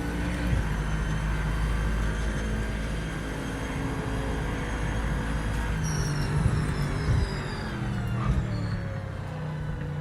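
An Aston Martin race car in Project Motor Racing drones loudly and steadily, its engine note holding and shifting pitch through gear changes, with no talk.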